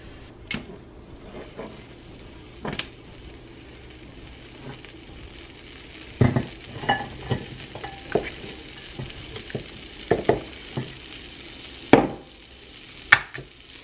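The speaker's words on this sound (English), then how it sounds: "Next, I'm going to melt some more butter in my pan." Butter melts and sizzles in a frying pan with a faint, soft hiss underneath, punctuated by scattered clacks and knocks of a utensil and pan being handled, some louder ones near the end.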